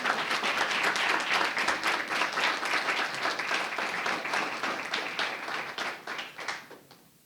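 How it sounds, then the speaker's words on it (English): Audience applause fills a school board meeting, a dense, steady clatter of many hands that holds for several seconds before thinning and tapering off at the end. "I ask you all to join me in giving Fiddle Strings and each of them a very appreciative round of applause"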